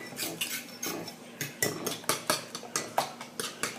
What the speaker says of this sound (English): Going to mix this together.